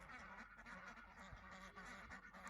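Geese honk repeatedly in a quiet series of nasal calls, some overlapping, heard faintly at a distance with no talking.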